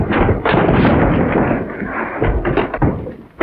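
Rapid, loud, close gunshots from a 1936 western film, crackling in a dense volley with no clear pause between shots.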